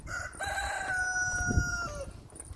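A rooster crows once, a loud, close, drawn-out call that rises then trails off, over faint background noise.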